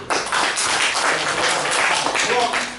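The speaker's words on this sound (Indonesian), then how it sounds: "Tepuk tangan lagi untuk Bapak." Audience at a workshop applauding, a dense steady clapping that holds for nearly three seconds at even strength, with voices mixed in beneath it.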